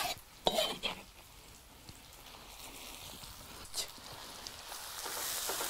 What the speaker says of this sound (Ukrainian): Помішуємо.